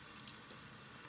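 Running tap water pours steadily into a sink during a rinse, a soft, continuous, close splashing stream with no speech.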